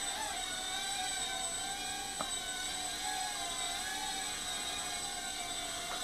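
A Fayee FY530 quadcopter drone flying, with a steady high-pitched motor whine that shifts slightly in pitch, heard constant and fairly close with no voices.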